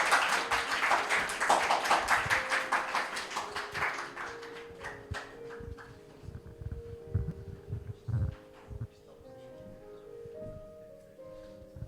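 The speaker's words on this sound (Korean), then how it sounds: "큰 박수로 맞이하겠습니다" Applause from a church youth service audience as a student representative comes forward for a pledge ceremony, a dense clapping burst that thins into scattered claps and soft room noise.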